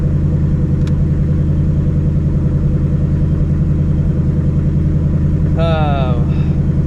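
A 2024 Ford Mustang GT's engine and exhaust give a steady, loud low rumble while cruising at night, heard continuously from inside the car with a brief higher tone near the end.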